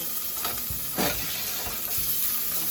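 Bacon sautés in a pan while meatloaf is being made, giving a steady close sizzle and hiss, broken by a few soft scraping stirs.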